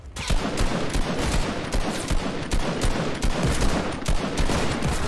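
Dense, continuous gunfire from an online multiplayer shooter video game rattles on in rapid repeated shots, loud and close throughout, with no voices over it.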